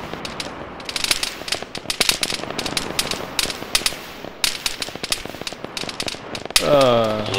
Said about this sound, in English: Lots of gunfire coming towards Alpha 2 from the northwest.